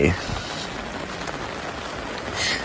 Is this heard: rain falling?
yes